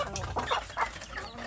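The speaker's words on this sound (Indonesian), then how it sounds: "anak ayam kampung saya yang dalam proses pembesaran ya sedulur" Village chickens, including young birds being raised, cluck softly in short scattered bursts against quiet farmyard background noise.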